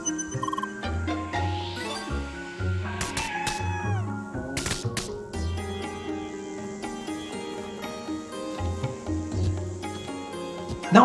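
Cats in the video game CrossCode meow repeatedly over the game's music, with a run of short, bright meows and some sharp chimes in the first half.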